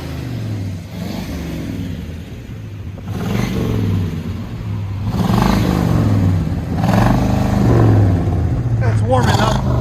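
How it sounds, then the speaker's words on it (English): Burbling 1984 Chevy Caprice Classic 5.0L V8 with dual Flowmaster Flow FX exhaust, idling low and rising in several revs that swell louder toward the end, heard nearby with some voices in the background. "What do you guys of this new exhaust note?"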